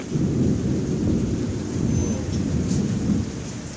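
Heavy rain pours down steadily during a thunderstorm while low thunder rumbles close overhead, a dense continuous wash of sound with no voices.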